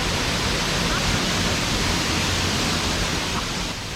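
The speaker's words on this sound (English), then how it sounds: "Grotto Falls is 25 feet tall and the only waterfall in the Great Smoky Mountain National Park that you can walk behind." Grotto Falls, a 25-foot waterfall in the Great Smoky Mountains that can be walked behind, pours with a loud, steady broadband roar that fills the whole scene and stays close and unbroken throughout.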